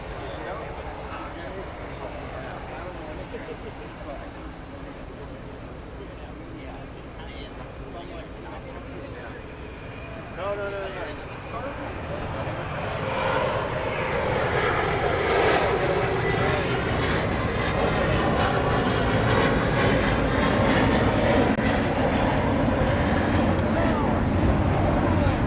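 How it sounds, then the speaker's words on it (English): Boeing 787-9 Dreamliner on flight 102 from Papeete arriving at LAX in Los Angeles, a distant jet engine rumble that swells steadily louder over the second half as the aircraft comes in, with faint background chatter early on. "That just arrived from Papeete, flight 102, 7879 Dreamliner."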